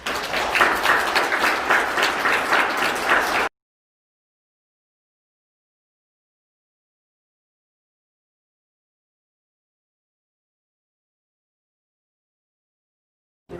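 A church youth-service congregation applauds the singers as they bow: a dense burst of clapping for about three and a half seconds, then abrupt silence.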